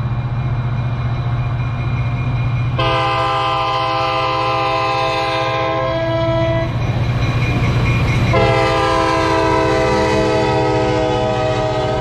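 A Music City Star commuter train departs Donelson Station, its loud horn sounding in two long blasts over a steady low diesel rumble and rolling wheel noise, close by and with no talk.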